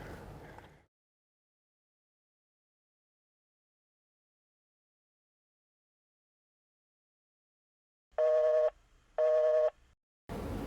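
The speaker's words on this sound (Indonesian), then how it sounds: "Kenapa masih nada sibuk juga ya?" A telephone busy tone on a call that will not go through, two loud steady beeps in a row after a long silence, heard alone.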